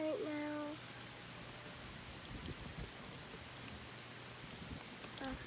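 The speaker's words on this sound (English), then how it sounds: "It's raining right now." Soft, steady rain falling at night, a faint continuous hiss of drops with a low hum underneath, quiet and uniform throughout, with a brief tonal sound at the start.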